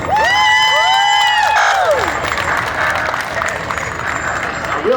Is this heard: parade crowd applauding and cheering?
yes